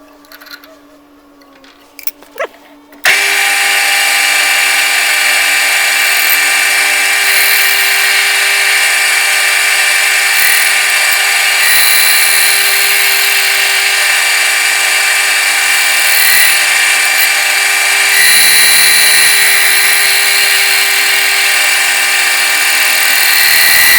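A lathe turns down the outer diameter of a 3D-printed gear for an Ashford wool carder: a quiet start with a few clicks, then a loud, steady machining whir with a high whine that holds for about twenty seconds.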